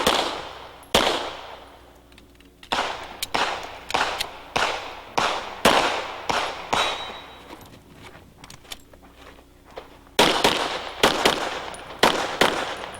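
Pistol shots at a 1997 IDPA shooting match fired at a steady pace, loud sharp cracks in several spaced bursts with outdoor echo tails, one longer pause partway through.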